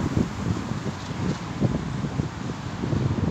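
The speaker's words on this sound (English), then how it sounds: "It's very, very windy today." Blustery outdoor wind rumbles at a moderate level with uneven gusts through a short stretch on a rainy day.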